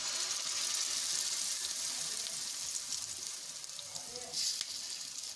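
Handvo batter goes into a sizzling tempering of cumin, sesame seeds and curry leaves, and a steady, bright hiss of hot oil runs close and unbroken, swelling briefly near the end.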